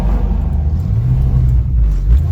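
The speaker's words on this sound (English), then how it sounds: "the tire was rolling really bad on the fender there again" A 1965 Mustang driving with a tire rubbing on the fender, heard as a steady low road and engine rumble close by, with no clear separate scraping standing out.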